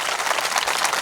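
A burst of dense crowd clapping for Jitubhai at a religious festival gathering, loud and continuous throughout the brief moment.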